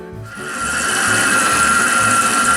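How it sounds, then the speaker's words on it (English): A stand mixer kneads challah bread dough with a steady, loud motor whine and a rhythmic low thumping as the dough turns in the bowl, starting a moment in and running continuously. "Got my mixer going for my challah bread"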